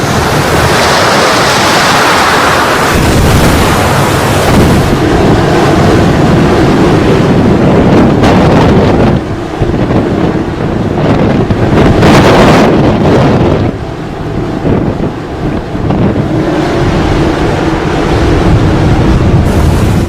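High sea waves pounding the coast of Andhra Pradesh or Tamil Nadu during Cyclone Ditwah, a loud, roaring wash of surf mixed with heavy wind noise on the microphone, continuous throughout with no voices.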